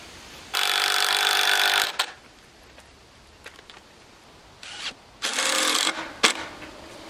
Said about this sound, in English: I'm not pre-drilling this because I'm just going in the center